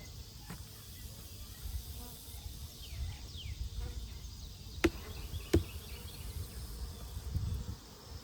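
Steady, close insect buzzing from many bees around a hive, with a couple of sharp clicks and light handling noise partway through.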